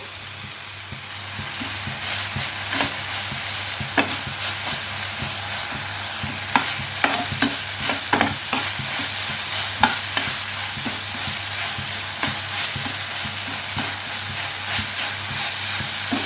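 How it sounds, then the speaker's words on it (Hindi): Boiled chow mein noodles fry and get stirred in a hot pan for spring roll filling, a steady loud sizzle running throughout with frequent sharp scrapes and clinks of a spatula against the metal. "पहले इसे मैं 1 से 2 मिनट के लिए अच्छे से भून लेती हूँ।"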